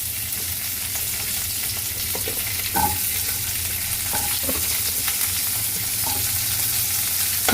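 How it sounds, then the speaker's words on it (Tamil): Shallots sizzle steadily in a hot pan, a continuous frying hiss with a few scraping stirs of a spatula and no voices. "நல்லா வதக்கி விடணும்."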